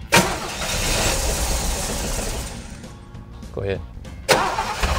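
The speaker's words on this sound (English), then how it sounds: "We're having a little engine trouble." A 1970 Chevy Camaro RS/SS engine with a suspected vacuum, distributor or carburetor fault cranks and tries to start in a loud, rough, continuous churn, then cuts off and cranks again briefly near the end, with people talking over it.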